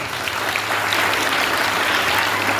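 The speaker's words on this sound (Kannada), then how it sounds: "ರಾಣಿ ಚೆನ್ನಮ್ಮದ ತಂಡದ ಎಲ್ಲ ಶಿವರಾತ್ರಿಗಳಿಗೆ ಜೋರಾದ ಚಪ್ಪಾಳೆ ಬರಬೇಕು" A stage audience claps loudly and steadily for a theatre troupe's Rani Chennamma performance, a dense, continuous burst of applause with no voices over it.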